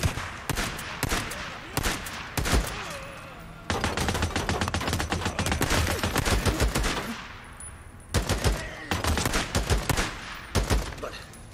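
Heavy gunfire from the zombie-survival video game Days Gone, with loud bursts of rapid automatic fire and single shots in clusters, separated by brief pauses.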